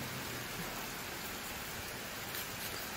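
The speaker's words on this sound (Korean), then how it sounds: "비가 좀 거세지고 있어요" Steady rain falling outdoors, a continuous hiss of drops on surfaces, faint and even with no other sounds.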